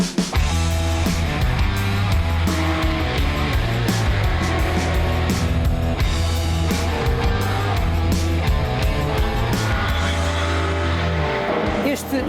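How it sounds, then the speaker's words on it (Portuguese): A 1980s BMW 635 CSi coupé racing car roars loudly and steadily, its engine note shifting through revs with hints of tyre squeal, under a voice talking over it throughout. "Eis o BMW 635 CSI."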